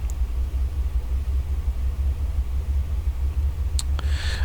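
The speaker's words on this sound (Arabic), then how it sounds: "قولوا لي راكم تسمعوا لي موتور مليحه" Aircraft engine running at Oran airport on a flight from Oran to Alicante: a steady, loud low rumble and drone held throughout, with a few brief sharp clicks near the end.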